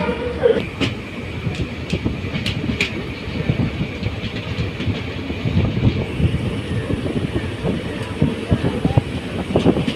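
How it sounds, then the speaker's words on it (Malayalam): Electric MEMU express train between Thrissur and Thiruvananthapuram running steadily on rails, a continuous rumble with faint clicks from the track joints and occasional higher squeaks throughout. "മംഗളൂരു അല്ല എറണാകുളം എക്സ്പ്രസ്. എന്തായാലും മെമ്മോ എക്സ്പ്രസ്സാ."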